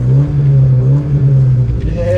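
A 1987 Porsche 944 Turbo engine drones steadily from inside the car, a strong low tone that holds level and then starts to climb near the end, with the cabin voice partly mixed in.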